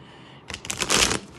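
Tarot cards being shuffled by hand, a run of quick riffling and papery flutter that builds louder, close up and alone after a brief quiet start.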